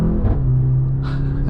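Four-cylinder engine of a 2024 Mercedes-AMG GLC 43 while driving in eco mode, a steady low drone with a brief rise in tone, heard from inside the cabin and alone.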